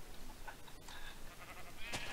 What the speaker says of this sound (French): On dirait un